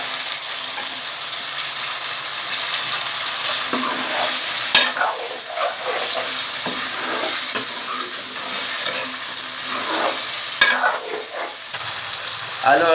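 Potatoes fry with chicken in a pan, giving a loud, steady sizzle with frequent scraping stirs and a couple of sharp knocks against the pan, with no voices.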